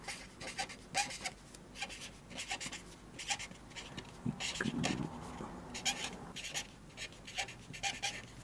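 Pen scratching on paper while working a beam calculation, with short rhythmic bursts of writing strokes close by in a quiet room and a soft thud partway through.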